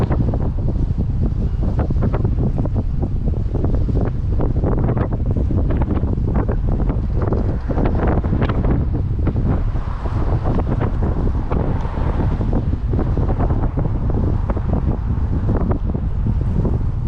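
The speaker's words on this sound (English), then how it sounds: "Wind's picked up again for some reason." Strong wind buffets the microphone on the coast during saltwater bass fishing, a loud constant roar with surf and waves mixed underneath, no voices heard.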